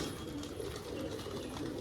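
A female pigeon coos softly and steadily at close range, a low continuous murmur with no speech over it.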